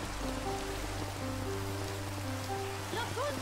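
Steady rain hisses in a video game, a dense continuous patter mixed with constant electronic tones and hum, with a few short rising synthetic sweeps near the end; no one speaks.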